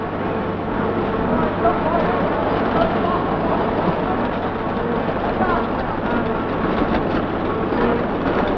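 A train in a 1930s-style Lord Peter Wimsey mystery setting rumbles steadily at a station, a continuous low mechanical drone with a faint hum beneath muffled voices, holding even from start to finish.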